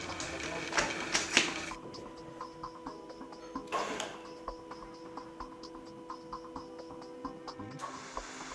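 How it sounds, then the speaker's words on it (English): A BDS AutoCUT 500 machine's motor running after being connected to the mains, a steady tonal hum with scattered sharp clicks and a couple of louder knocks near the start and middle. "Now connect the machine to the mains and check the direction of rotation of the motor."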